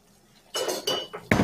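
Bacon cheddar cheese soup stirred in a pot, a few close scraping and clinking strokes of a utensil against the pot rim in quick succession.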